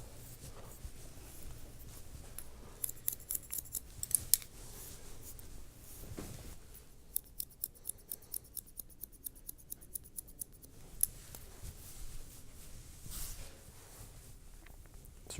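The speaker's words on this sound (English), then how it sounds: "we'll scissor over comb through the perimeter" Barber's scissors snip steadily through hair in a scissor-over-comb cut around the perimeter of a textured quiff, close and crisp, with runs of quick rhythmic clicks and no talking.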